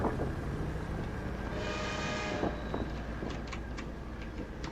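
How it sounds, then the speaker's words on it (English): Train horn from an Ultimate Mining Tycoon game in Roblox, a sustained blast of about a second standing over a steady background rumble, followed by several short higher tonal blips. "This time I hear an actual train horn."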